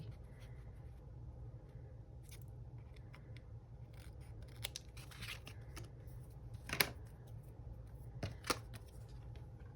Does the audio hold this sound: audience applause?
no